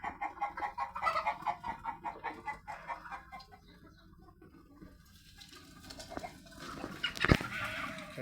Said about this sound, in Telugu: మొత్తం ఇవన్నీ జాతి కోళ్ళు.